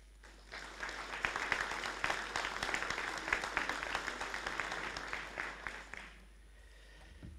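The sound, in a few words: council meeting attendees applauding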